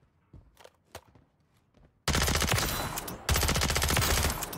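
HRM-9 submachine gun in Modern Warfare III's fire range, a few faint clicks and steps, then a loud sustained stream of rapid automatic fire for over two seconds with a brief break.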